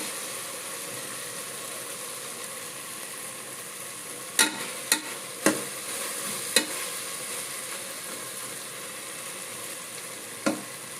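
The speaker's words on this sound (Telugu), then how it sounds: "ఇంకా టమోటాలు అయితే మగ్గుతున్నాయి అన్నమాట" Tomatoes simmer in a pan with a steady soft sizzle and bubbling hiss throughout, broken by a few sharp clinks and scrapes of a utensil stirring against the pan.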